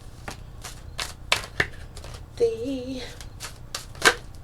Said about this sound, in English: Now let's go ahead and shuffle